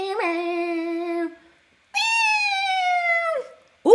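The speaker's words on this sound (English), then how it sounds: "It's like, meow, meow, meow, meow, meow." A played-back recording of a cat meowing gives two long, drawn-out, strongly tonal meows with a slightly musical, guitar-like quality, separated by a short pause, then the start of another cry.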